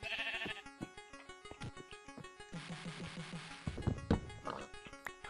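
Blocky sheep in the game Minecraft bleat in short repeated bursts over a busy layer of game music and effects, the calls close and fairly loud, several overlapping near the middle.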